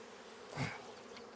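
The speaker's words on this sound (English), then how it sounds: "let's try to get the lid on these bees" A swarm of honey bees hums in a faint, steady buzz nearby, with one bee briefly swelling louder as it passes close.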